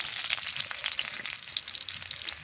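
Spices, garlic, bay leaf and whole cumin crackle and sizzle in hot mustard oil for a sour Bengali dish, a steady close hiss dotted with small pops and no talk.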